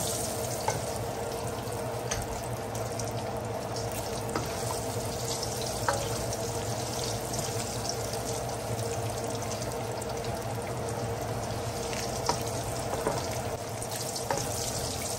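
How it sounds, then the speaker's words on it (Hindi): Potatoes frying in hot oil in a home kitchen pan, with a steady, dense sizzle and occasional crackles and pops running unbroken throughout. "अब इसी ऑयल में मैं आलू डाल दूंगी।"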